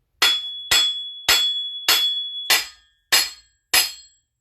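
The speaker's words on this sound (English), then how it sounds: "Hit it with a hammer." A hammer strikes metal parts of a blown Mitsubishi 4G63 engine during teardown: seven sharp, ringing clanks at a steady pace, each decaying briefly, loud and close with no talk.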